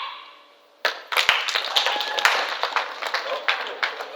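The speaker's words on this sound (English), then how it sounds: "First clap!" Hands clap in a quick, uneven series of sharp bursts that builds into scattered applause, starting after a short quiet stretch, with voices underneath.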